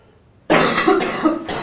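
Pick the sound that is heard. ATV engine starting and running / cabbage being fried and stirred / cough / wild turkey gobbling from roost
cough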